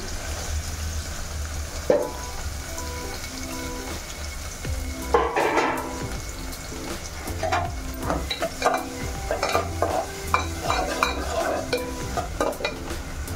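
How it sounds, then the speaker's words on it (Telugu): Chopped onion and green chillies sizzle loudly in hot oil in a pan, with a steady frying crackle and repeated spoon scrapes and clinks as the mixture is stirred. "ఆయిల్ వేసుకున్నాను ఫ్రెండ్స్, పచ్చిమిరకాయలు వేసుకున్నాను, దాని తర్వాత ఉల్లిపాయ 1 కోసుకొని వేసుకుంటాను"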